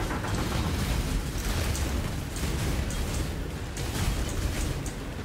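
Continuous rumbling detonations and bursts from Detonate Dead corpse explosions in a Path of Exile necromancer build, dense and overlapping with crackling, loud and steady for several seconds.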